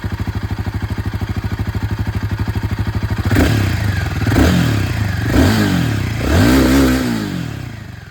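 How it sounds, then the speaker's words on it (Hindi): A KTM 390 Adventure and a Royal Enfield Himalayan 450 on its regular exhaust are heard: first a rapid, even idle pulse, then loud throttle blips that rise and fall in several revving bursts, close by and with no talking. "तो ये आवाज़ दोस्तों आप लोगों ने यहाँ पर दोनों ही बाइक की सुन लिया।"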